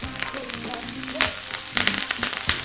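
Steak fries in gently foaming butter with garlic, thyme, rosemary and bay leaf, giving a close, continuous sizzle with crackling bursts and spatter throughout.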